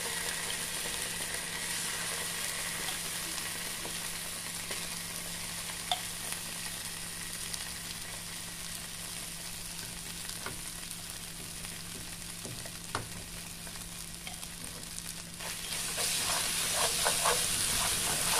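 Onion, garlic and tomato paste fry in a pan for beef stew, a steady close sizzle and hiss running throughout, broken by occasional soft stirring knocks and growing slightly louder toward the end. Nobody speaks.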